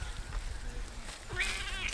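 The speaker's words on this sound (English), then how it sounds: "There's two kitties here just hanging out in the garden" A cat gives a short, clear meow at close range in a garden, heard over background rustling and murmur.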